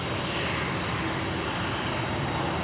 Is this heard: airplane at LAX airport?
yes